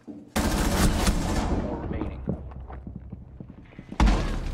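Rapid automatic gunfire in Rainbow Six Siege, a loud sustained burst of shots followed by scattered thuds and quieter impacts, then another sharp loud blast near the end.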